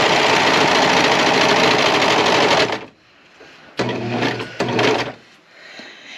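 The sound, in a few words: sewing machine running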